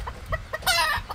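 A Thai gamecock rooster on a farm gives a few short clucks, then a loud, close, strained crow that cuts off abruptly.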